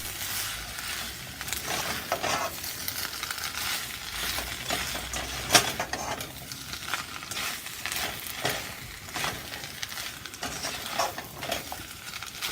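Cooked noodles with chicken and vegetables are tossed in a hot pan, with a continuous sizzle and repeated rhythmic scraping and clattering of utensils up close.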